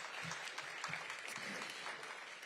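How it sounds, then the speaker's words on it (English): A crowd at an elementary school dedication ceremony gives a round of applause, a continuous spread of clapping heard at a moderate distance with a few voices underneath. "Give him a big round of applause."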